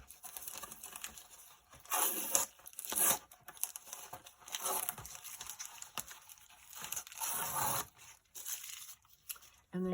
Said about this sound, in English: you're going to tear the plastic off this window